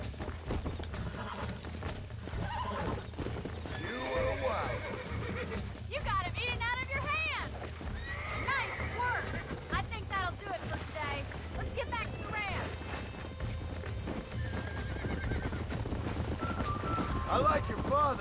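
A horse in the video game Red Dead Redemption gives several whinnies and snorts over steady clip-clop hoofbeats, with game dialogue and background music running throughout.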